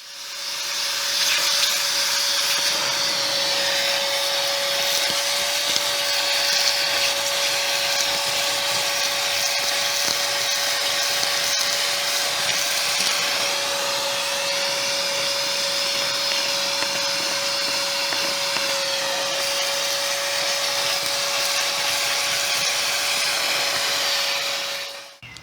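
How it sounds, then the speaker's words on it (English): Vacuum cleaner sucking loose dirt from old brickwork, a steady loud roaring drone with a constant whine, close and unbroken for the full length. "vacuumed up the dirt"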